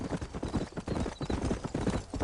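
Horse hooves clip-clopping in Red Dead Redemption, a steady close rhythm of hoofbeats alone, moderately loud throughout.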